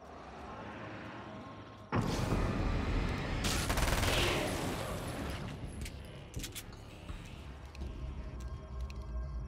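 Assault rifle gunfire in the video game Alan Wake's American Nightmare: a loud, dense burst of shots erupts suddenly and keeps rattling with echoing reports and clatter, slowly easing off but staying loud to the end.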